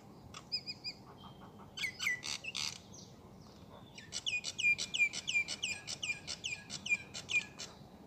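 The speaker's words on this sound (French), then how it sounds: "Parce qu'on l'appelle Monsieur Martin, cet oiseau de l'île Maurice." A Monsieur Martin, a bird of Mauritius, sings in clear repeated chirping phrases, with a short burst early on and then a longer run of rhythmic calls over a soft background hum.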